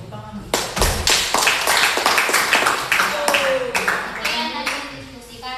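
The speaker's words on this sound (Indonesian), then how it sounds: "mari kita tepuk tangan" A classroom of students claps together, a burst of sharp, uneven hand claps sustained for several seconds, close and loud, with a brief voice and children's chatter mixed in.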